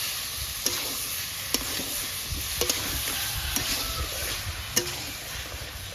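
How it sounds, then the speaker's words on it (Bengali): Cauliflower stir-fried in a pan with water, a continuous moderate sizzle broken by regular scraping clicks of a spatula, close by with no voices. "এবার ফুলকপিটা দিয়ে কষিয়ে নিচ্ছি।"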